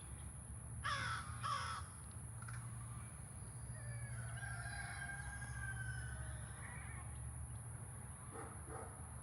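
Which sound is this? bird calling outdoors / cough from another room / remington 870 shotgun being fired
bird calling outdoors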